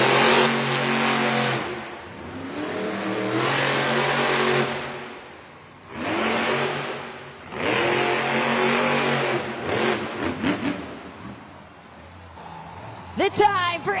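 The El Toro Loco monster truck roars through a racing run at a Monster Jam event in Duluth, Georgia, its loud engine revving in surges. An announcer talks over the engine and the crowd.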